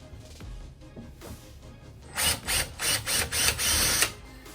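A screwdriver backs out Phillips head screws from a Kwikset deadbolt on a door, a run of five or six close ratcheting clicks in quick bursts after a quieter stretch of light handling.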